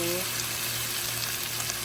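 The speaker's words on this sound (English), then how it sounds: "Ooh, listen to that sizzle." Chicken thighs fry in a hot pan, giving a dense, steady sizzle and crackle that stays loud and continuous for the whole moment.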